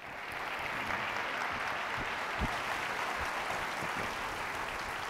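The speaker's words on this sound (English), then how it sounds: "Give a round of applause for Bora." Audience at a business conference applauding a company CEO, a dense, even wash of clapping that builds quickly and holds steady throughout.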